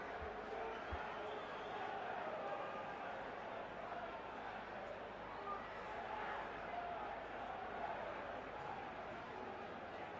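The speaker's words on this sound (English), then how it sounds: "the crowd is gradually getting louder, sensing this opportunity for the Rockies to pull even" A baseball stadium crowd at a Dodgers versus Rockies game gives off a steady, distant roar that holds at a fairly even level, with voices mixed into the wash of noise.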